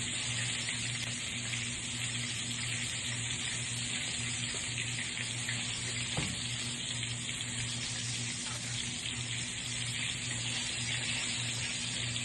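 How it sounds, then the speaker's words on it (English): Honey garlic soy sauce simmering in a pan over low heat gives a steady, soft bubbling sizzle with a constant hiss that runs unbroken, with no voices. "so I turn my heat all the way down just to let it simmer for 5 to 10 minutes"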